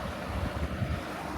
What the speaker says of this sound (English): it's the creek where we're headed down there. It's the water coming down it.